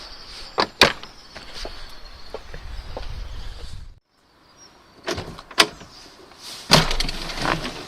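A Corvette C4 convertible top is lowered into place and latched, with rustling fabric and handling noises, a pause of near silence, then several sharp clicks and thuds as it locks in.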